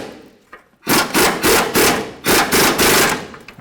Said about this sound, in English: You can, of course, just use a 21mm socket or wrench